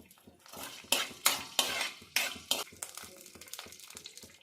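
Chana dal and urad dal stirred in a little hot oil, a run of sharp scraping clinks from the spoon against the pan with a light frying hiss beneath, close and fairly loud.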